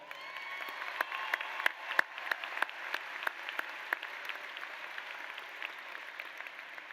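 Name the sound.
audience applause at high school graduation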